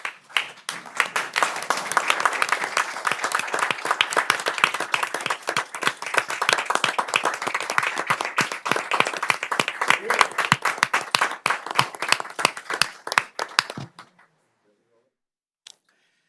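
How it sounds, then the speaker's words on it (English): Sustained applause from an audience at a city planning commission meeting honoring a retiring official, dense clapping building quickly and running about fourteen seconds before stopping abruptly into near silence. "please, if we can indulge him and stand for a round of applause"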